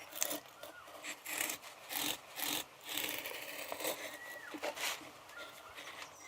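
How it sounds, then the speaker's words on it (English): A chisel carves a sword hilt handguard by hand, making a series of short, close, soft scraping strokes separated by brief pauses. "then it is carved with only a chisel"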